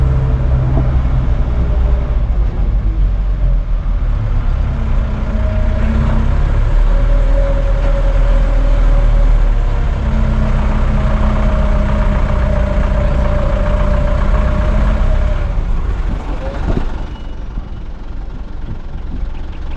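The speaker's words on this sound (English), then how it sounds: "At least it's a small bus and a pretty good quality road." A small bus drives along a mountain road, its steady, low engine drone running throughout, with a faint whine rising mid-clip and easing toward the end.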